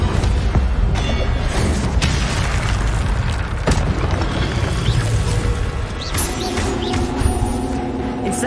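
Incendio fire spell cast in Hogwarts Legacy on PS5, a loud booming burst of flame with crackling, crashing impacts and a continuous dense roar, with several sharp pops across the stretch and game music tones underneath.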